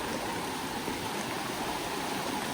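A creek rushes over a hiking trail crossing in Red River Gorge during rain, giving a steady, broad, close wash of flowing water with no break and no voices.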